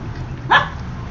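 A single short, rough dog bark with a raspy edge, close by, over a low background hum.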